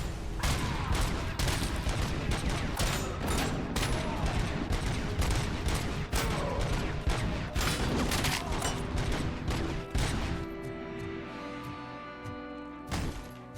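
Gunfire from the RoboCop Rogue City video game, a dense fusillade of rapid shots and crashing impacts that continues loudly for about ten seconds, then gives way to a quieter lingering tonal hum.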